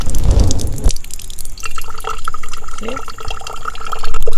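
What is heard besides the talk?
water draining fast through potting soil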